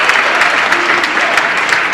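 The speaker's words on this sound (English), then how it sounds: "a split conversion delights the crowd" Loud, steady applause and cheering from a home crowd at a bowling World Cup semifinal, celebrating a split conversion, with voices mixed into the clapping throughout.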